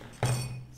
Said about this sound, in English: I stir the water in the glass